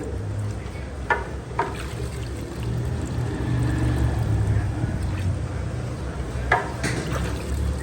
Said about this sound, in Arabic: بصوا يا جماعه الميه اللي بتنزل قد ايه